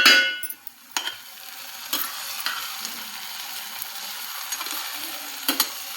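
Onion frying in a pan with okra and besan for a home vegetable dish, a soft steady sizzle broken by several sharp scraping clacks of a spoon stirring against the pan.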